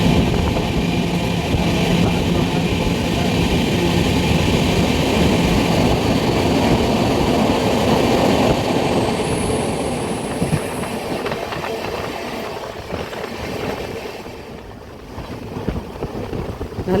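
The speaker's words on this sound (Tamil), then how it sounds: "ஒரு மிகப்பெரிய டன்னலை கடந்து போயிட்டுருக்கேன்" A train rolls through a large tunnel with a continuous loud rumble and rattling, heard from inside a coach, easing and thinning toward the end as a brief high tone passes.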